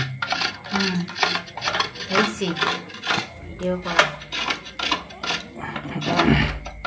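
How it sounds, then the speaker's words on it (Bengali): A coconut is grated by hand, giving rhythmic scraping strokes with metallic clinks of the grater and bowl, steady and close, while voices murmur in the background. "তুই নারকেলটা এইভাবে কুড়াইতে পারবি না?"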